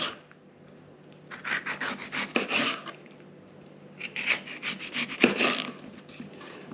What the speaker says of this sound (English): So let's get our tomatoes sliced up here.